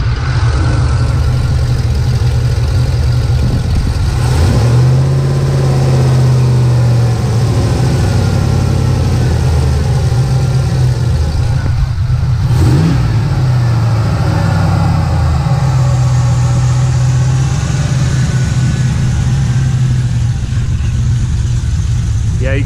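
A big Chevrolet Silverado truck engine with new heads and cam, needing a tune, rumbles loud and close, idling roughly with a couple of throttle swells rising and falling over a steady low drone.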